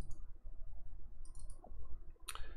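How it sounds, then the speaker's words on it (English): A computer mouse clicks a few times, sharp and close, over quiet background hiss. There are several short isolated clicks with gaps between them. "I'm just going to click install."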